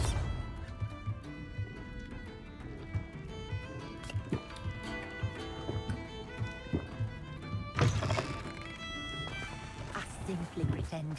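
A Bombarda spell blast in the Hogwarts Legacy video game: a loud, brief broadband burst strikes over continuous orchestral game music, with a few thudding impacts around it.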